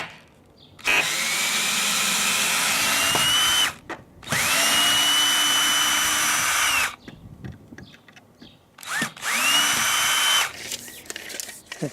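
A power drill backs screws out of a wooden fence post in three long whining bursts with short pauses between, close and loud.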